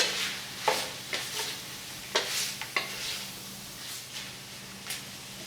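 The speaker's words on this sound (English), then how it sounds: "We'll just stir this around for a good, I don't know, 4 or 5 minutes. Just let it keep browning." Food browns in a pot for Cajun red beans and rice, a steady low sizzle broken by repeated scraping stirs of a spoon, close and fairly quiet with no talk.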